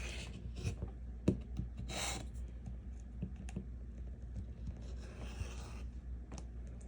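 A rotary cutter slices along a ruler to trim the edge of a fabric half-square triangle quilt block, giving a soft, steady scraping rasp with a few faint clicks, close and quiet, with no talking.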